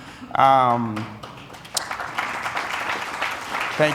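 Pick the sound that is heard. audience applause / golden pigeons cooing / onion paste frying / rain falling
audience applause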